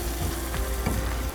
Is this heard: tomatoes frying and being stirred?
yes